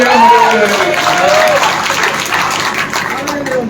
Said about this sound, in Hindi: ताली बजाओ तो भी पूरी बजाओ ना